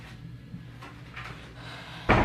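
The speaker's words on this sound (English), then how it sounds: "can you please close the door?" A door shuts with a single loud thud near the end, following a quiet stretch of faint room noise and small movement sounds.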